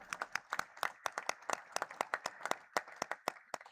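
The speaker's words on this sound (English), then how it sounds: "can we have a thunderous round of applause for Laser Power and Infra" Crisp, rapid clapping from a small audience at the stock market listing ceremony of Laser Power & Infra Limited, fairly close and sustained in a dense, uneven rhythm of sharp individual claps with no talking over it.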